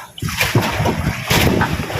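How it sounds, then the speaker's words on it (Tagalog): Rough, stormy sea waves splash and slosh in broad bursts, close and loud, with surges of spray washing over one another. "Sobrang lakas ng alon."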